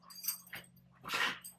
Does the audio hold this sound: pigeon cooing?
no